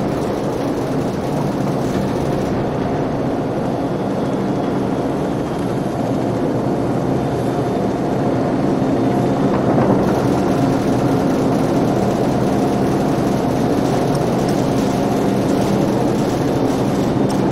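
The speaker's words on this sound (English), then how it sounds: "Crew, be advised, friendly helicopters entering the area." Helicopters approaching in Call of Duty 4: Modern Warfare, a steady heavy engine and rotor drone that stays loud and continuous throughout, with no speech over it.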